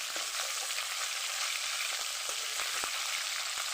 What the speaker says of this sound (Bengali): মাছ কিন্তু খুব সুন্দর মাছ ভাজা হয়েছে এবং ফুলে উঠছে